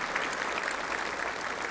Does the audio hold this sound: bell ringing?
no